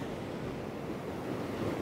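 Ocean surf washing over coastal rocks at an open sea shore, a continuous broad rushing roar mixed with wind buffeting the microphone and no talking.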